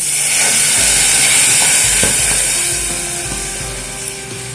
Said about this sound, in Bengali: আর দিয়ে দিচ্ছি জল